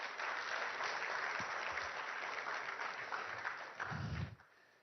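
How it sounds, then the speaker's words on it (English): Sustained applause from a conference audience at the India Today Conclave, dense and steady, fading out near the end. "a huge round of applause till he does"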